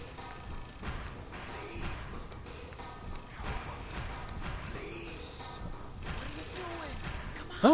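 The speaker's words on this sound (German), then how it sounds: "Ah, Telefon." A telephone rings in the horror video game The Suffering, a repeating bell-like ring at moderate level amid ambient game sound and faint voices.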